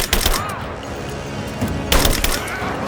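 Gunfire in the video game Rise of the Tomb Raider, dense crackling bursts of rapid shots layered over loud, busy game noise, with speech-like voices mixed in.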